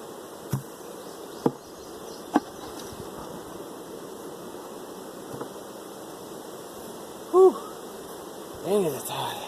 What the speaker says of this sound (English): now I'm just going to shake these bees